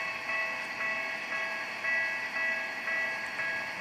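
A train rolls steadily past a railroad crossing in the game Trainz 12, a sustained mechanical hum with faint repeating tonal bell-like pulses and no voices.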